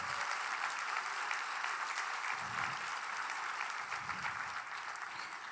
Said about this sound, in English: can we have some quick round of applause and shout out for our audiovisual crew?